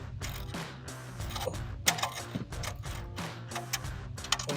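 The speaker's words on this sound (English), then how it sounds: "I got some deep sockets because I would have been here forever with that wrench." Ratchet wrench with a 10mm deep socket loosening nuts on a Chevrolet Silverado 1500 during a resonator delete, giving a close, steady run of rapid mechanical clicks and creaks with a few sharper knocks.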